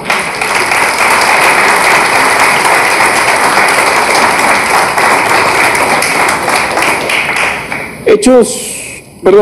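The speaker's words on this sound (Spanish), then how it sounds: "Le damos un aplauso al Señor" Church congregation applauding during a Spanish-language service, a loud, sustained wash of many hands clapping close by that ends with a few scattered claps and a voice speaking briefly.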